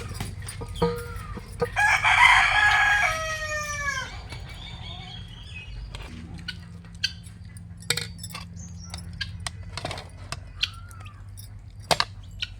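A rooster crows loudly nearby in one long call, followed by scattered soft clucks and pecking taps from chickens.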